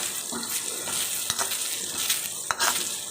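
Garlic and chopped vegetables for chutney sizzle and crackle in a pan, a steady close hiss with a few sharp stirring clinks, and no talking.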